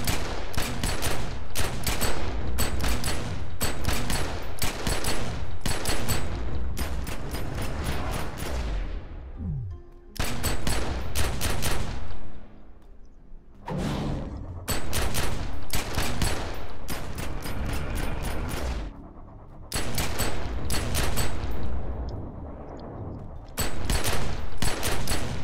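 Pistol fire in the video game The Secret World comes as rapid bursts of sharp shots, loud and close, broken by short pauses. No one talks.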